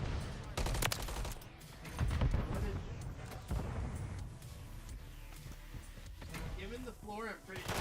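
Shotguns fire in a Call of Duty match as a rapid series of loud, punchy blasts mixed with game effects, all under a player's excited talk.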